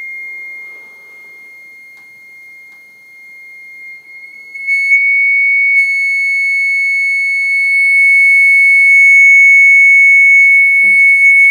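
A loud, steady electronic tone drives a Chladni plate for a cymatics demonstration, holding unbroken after a quieter start, with faint rattles and taps near the end.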